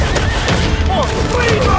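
Volley of arrows loosed during a battle in the video game Road to Valor: Empires, a dense, continuous rush and clatter layered over loud battle din and possible horse whinnies.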